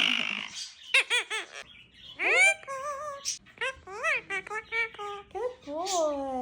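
An Indian Ringneck parrot vocalizes up close in a run of short, high, whistly chirped phrases that mimic human speech, with brief pauses between bursts.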